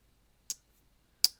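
Two crisp metallic clicks from a slip joint knife with cocobolo handles and a clip point blade, snapping open and then shut about three-quarters of a second apart, close and isolated against near silence.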